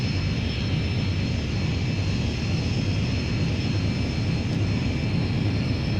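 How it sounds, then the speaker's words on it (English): An Airbus A320 engine in the X-Plane 10 flight simulator gives a continuous, even jet drone with a steady low roar and high whine throughout, no speech. "Somewhere in the background there, in that engine sound, I can hear the flex."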